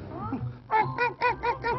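A storyteller's spoken imitation of a duck quacking, told in a children's tale about a duck herder: five rhythmic, nasal quacks in quick succession, close and fairly loud, following a brief stretch of speech.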